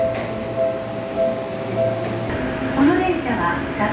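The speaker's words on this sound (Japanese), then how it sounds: "車両数が少なくなってきている黄色い電車のこちら西武狭山線に乗車したいと思います" A yellow Seibu Sayama Line local train at Nishi-Tokorozawa station gives off a steady rumble and rattle with faint tonal hums, and a voice talks over it throughout.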